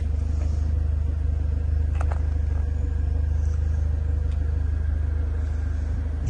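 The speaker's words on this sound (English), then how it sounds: "The car's also actually running a Scorpion exhaust system, so it does sound a bit fruitier than standard, which I will do a few blips for you in a second." A Renault Megane RS250 hatchback fitted with a Scorpion exhaust idles with a deep, steady rumble up close, holding a constant low drone throughout with no clear revs rising above it.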